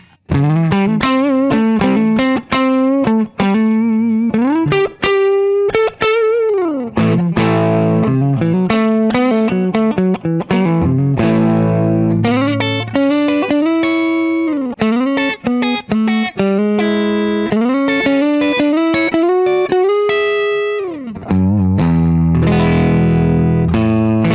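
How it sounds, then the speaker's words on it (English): A heavily distorted electric guitar played through a Rat distortion pedal plays a continuous riff of bends, slides and chords, loud and gritty with a buzzing, saturated tone and no voices. "I just added a little rat distortion pedal"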